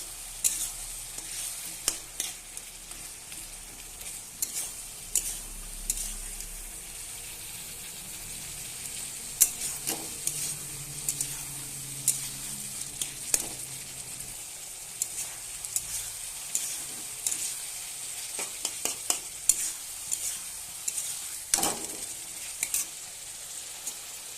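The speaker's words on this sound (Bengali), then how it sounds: "ভালোভাবে কষিয়ে নেবো, নাহলে কাঁচা গন্ধ করবে।" Food sautés in a pan with a continuous hiss, while a utensil scrapes and taps against the metal at irregular intervals throughout, heard up close with no talking.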